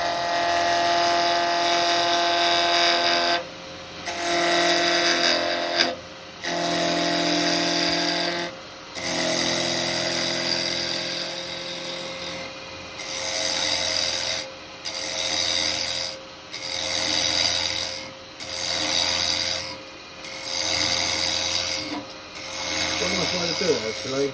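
Square carbide chisel cutting a small lidded Japanese box on a woodturning lathe, making a loud rasping, scraping drone broken into repeated bursts by short pauses, with someone talking between cuts.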